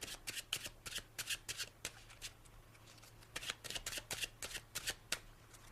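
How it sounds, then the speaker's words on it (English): A deck of cards is overhand shuffled by hand nearby in quick bursts of crisp flicking, two flurries separated by a short pause, over a faint low hum. "Here's how the shuffle looks."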